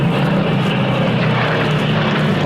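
A Supermarine Spitfire flies a low straight-and-level pass at an air display, its piston engine a loud, steady, throaty drone holding close throughout, with no talking.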